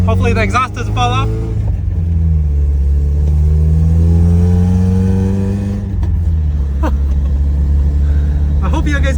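A Mazda Miata engine revs up loudly through a new exhaust and holds a deep, throaty drone before dropping back to idle, close by, with brief talk at the edges.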